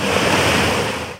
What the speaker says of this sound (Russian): Вода хлещет под большим напором.